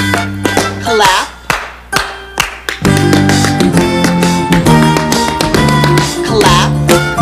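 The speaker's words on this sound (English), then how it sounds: "clap, clap, clap, tap, tap, tap, tap." Hand clapping in a 1986 children's TV show: a few sharp, separated claps, then steady taps over a bright musical backing.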